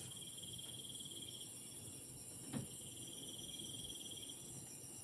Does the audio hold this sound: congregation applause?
no